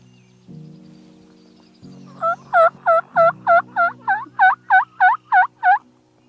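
A wild turkey gobbler gobbles at dawn: a single loud, rapid rattling burst of about a dozen pulses, fairly close, following a few low hums of background noise.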